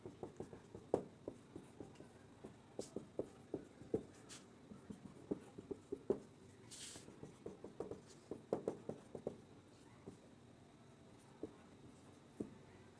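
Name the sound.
pen writing on paper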